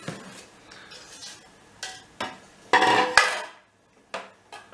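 A spoon clinks and scrapes against a bowl while wheat starch and cocoa are stirred together for a Malaga pudding, a series of irregular close taps and clatters separated by short pauses.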